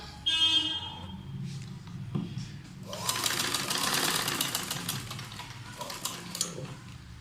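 A shuttle sewing machine stitches cloth during a beginner sewing class, starting with a few seconds of quieter handling sounds before the motor runs in a steady, fast, close whir to the end.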